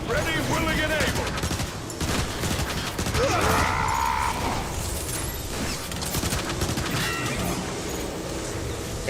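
Gunfire in the game Transformers: War for Cybertron, dense rapid shots and impacts with mechanical clanks, loud and continuous, with a voice briefly speaking over the action.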